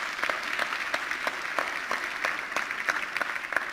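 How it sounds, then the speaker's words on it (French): An audience at a presentation breaks into applause, a steady patter of many hands clapping at moderate volume from a modest crowd, with no voices rising above it. "je pense que mérite un petit applaudissement"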